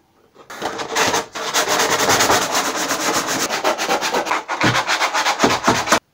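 Trimmed ABS plastic stormtrooper armour parts are sanded in fast, continuous back-and-forth rasping strokes, close and loud, with a brief pause partway through.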